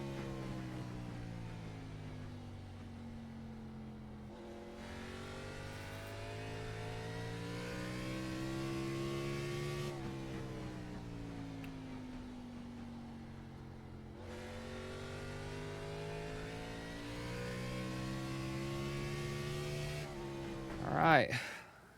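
NASCAR Xfinity race car engine at speed in the iRacing simulator at Kern County, a loud steady drone that swells and dips with gear shifts and throttle changes, with a sharp burst near the end.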